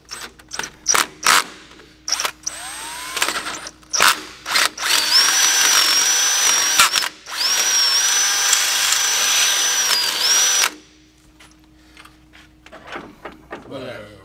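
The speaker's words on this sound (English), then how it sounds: "So what we'll have to do is go ahead and drill that out a little bit." Power drill enlarging a hole in a Ford F-150 IHC drop kit part with a bigger bit, running in two long whining bursts between clicks and handling noises, with someone talking.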